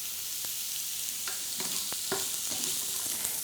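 Carrots are poured into a hot pan and start cooking, giving a soft, steady sizzle with a few light knocks and stirring scrapes, fairly quiet throughout.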